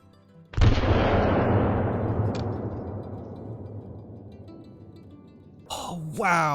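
A single loud handgun shot in the hunting game Call of the Wild, aimed at a mountain lion from 300 m, cracks sharply and rolls away in a long fading echo, followed by a voice at the end.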